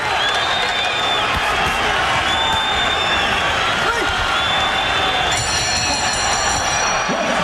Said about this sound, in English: The crowd gives a good standing ovation.